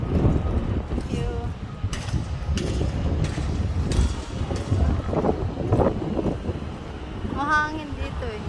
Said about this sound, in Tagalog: Mahangin dito eh. Presko.